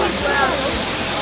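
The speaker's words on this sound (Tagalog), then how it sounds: "Ayun yung falls." A waterfall rushes with a constant, dense hiss of falling water, heard close and fairly loud for a brief moment.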